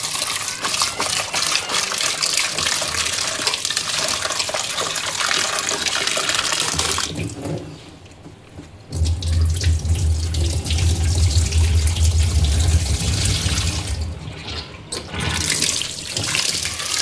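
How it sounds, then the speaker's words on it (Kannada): Drumsticks are washed under water in a vessel: a loud, steady gush and splash of running water, briefly dropping away midway before flowing again with a deeper filling tone, no voices. "ಈಗ ನುಗ್ಗೆಕಾಯಿ ತೊಗೊಂಡು ಇದು ಕ್ಲೀನಾಗಿ ವಾಶ್ ಮಾಡ್ಕೊತೀನಿ"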